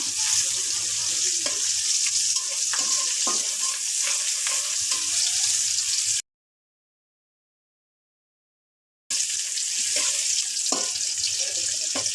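Onion and chilli fry in oil in a pan as the base for a quick pasta. A steady, close hiss is broken by a few seconds of complete silence partway through.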